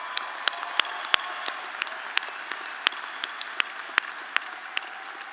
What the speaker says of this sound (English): Everyone, a round of applause for all of our graduates.